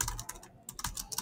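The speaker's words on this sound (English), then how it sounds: "I'm going to go back to typing." Someone types on a computer keyboard in short bursts of clicking keystrokes, close and fairly quiet, with a brief pause midway and no talking.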